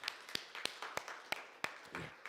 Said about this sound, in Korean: 우리 박수 한번 치도록 하겠습니다